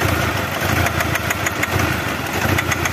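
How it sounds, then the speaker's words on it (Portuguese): Nissan Frontier pickup engine idling unevenly with its timing badly out of sync, a steady, loud, rough mechanical clatter with irregular ticking pulses throughout and no one speaking. "Então tá bem fora de sincronismo o motor."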